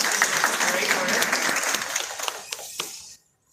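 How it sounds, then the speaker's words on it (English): Audience at a Harlem town hall applauds steadily for about three seconds, the clapping dense and sustained before tapering off abruptly into silence. "you can give her a round of applause"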